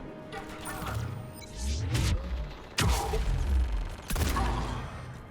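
Turret gunfire in the shooter Mass Effect 3, with bursts of rapid shots and sharp impacts about every second or two, heavy and close, amid mechanical clatter and game ambience.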